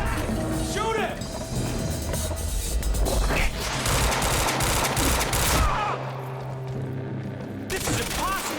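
Rapid bursts of gunfire crackle through a firefight in the video game Quantum Break, dense and sustained for most of the stretch before easing off, with shouting voices mixed in.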